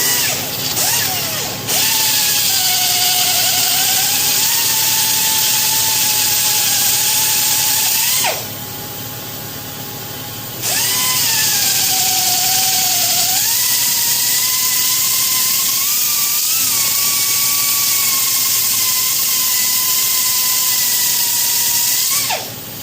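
A metal lathe machines a part for a power brake conversion on a 1962 International Harvester 1200, giving a steady, close mechanical whine whose pitch shifts slightly throughout, broken by one brief change in tone partway through.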